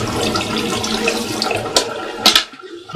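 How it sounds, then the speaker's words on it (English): Tap water runs steadily into a kitchen sink while ingredients for Kenyan pilau are rinsed, a continuous close splashing stream with a few louder bursts near the end before it cuts off. "So I'm just gonna rinse everything because they're not dirty."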